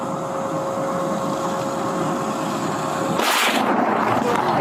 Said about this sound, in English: Video from Illinois shows the moment a natural gas-powered garbage truck exploded